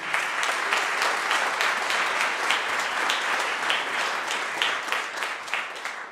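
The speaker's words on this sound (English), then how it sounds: "please, one big round of applause for our entire community" A crowd applauds steadily and loudly, dense clapping sustained throughout without a break.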